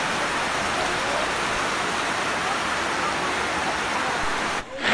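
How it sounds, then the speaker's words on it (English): Heavy rain pours down in a dense, continuous, loud hiss of broadband noise that stays steady until a brief dip at the very end. "You can see now, here it is raining right now."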